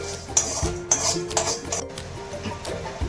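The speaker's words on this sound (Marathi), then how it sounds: "वेलची, मसाला वेलची आणि काळी मिरी 10 काळी मिरी आणि तेजपत्ता हे आपण आता भाजून घेत आहोत" Cardamom, black pepper and bay leaves dry-roast in a pan as a spoon stirs them, with repeated close scraping and clinking strokes in an even rhythm over a quiet background.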